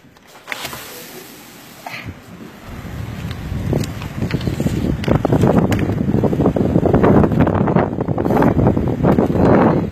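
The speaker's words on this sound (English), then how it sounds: "I just want to show you how windy it is." Strong gusty wind roars across an open beachfront construction site, swelling from a faint rush into loud, sustained buffeting noise against the microphone.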